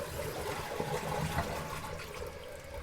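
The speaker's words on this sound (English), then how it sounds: "Now what happens when you flush it is all of this water" A household toilet flushing, water rushing and gurgling steadily at moderate volume throughout with a continuous watery wash and no pauses.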